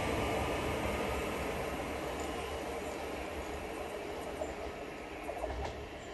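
Freight train rolling past on a line near Fitzwilliam, a broad steady rumble of wagons at moderate distance that slowly fades, with faint squeals near the end and no voices.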